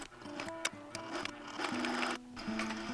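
Short bursts of a sewing machine stitching the inside neck part of a fabric cat collar, the motor starting and stopping in quick, uneven runs with clicks between them, close and moderately quiet.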